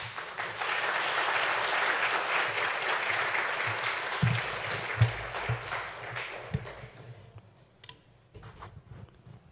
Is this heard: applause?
yes